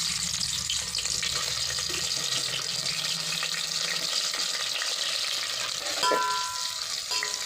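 Onions sizzle steadily in hot oil in a pan for spinach palak pulao, a loud continuous frying hiss that fills the whole clip, with a brief clink of a utensil near the end.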